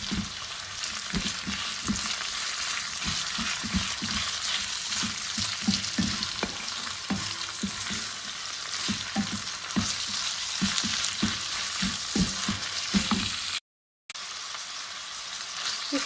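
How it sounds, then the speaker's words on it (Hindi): Minced keema sizzles and frying steadily in a pan with lightly browned onions, a continuous close crackle with occasional stirring scrapes and a brief dropout near the end. "इसके अंदर अब मैं सबसे पहले कीमा ऐड करूंगी। इसको 2-4 मिनट के लिए फ्राई करूंगी।"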